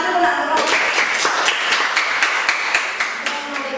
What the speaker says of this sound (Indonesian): Ya, kasih tepuk tangan dulu nak.